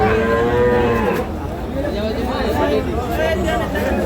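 A calf at a busy village cattle market, mooing in long drawn calls close by, with people chattering and bargaining all around.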